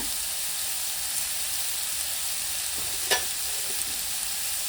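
Chana dal roasting in a pan for a mutton head sambar: a steady soft sizzle with light stirring, plus one brief sharper scrape or crackle near the middle, and no talk.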